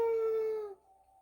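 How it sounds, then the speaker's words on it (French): A single drawn-out dog howl in the French horror game What Will Remain, a clear sustained tone that fades and drops in pitch after about a second, with no barking audible. "Il entendit des aboiements au loin."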